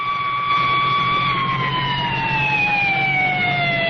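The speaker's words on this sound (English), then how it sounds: "An ambulance swings away with its passenger." An ambulance siren wails in a steady sustained tone that slowly drops in pitch as the vehicle pulls away, loud and clear with faint road rumble beneath.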